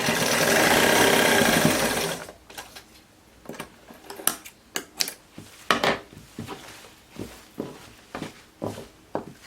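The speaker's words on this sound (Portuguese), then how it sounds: "Aí, costura." Sewing machine stitching fabric for a jumpsuit: a loud, steady mechanical whir for about two seconds, then stops, followed by a string of light clicks and handling taps.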